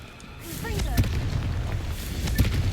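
A Confringo blasting spell is cast in the Hogwarts Legacy video game during a Merlin trial, giving one sharp fiery burst near the one-second mark, with another blast later, over a busy game soundscape while a voice speaks.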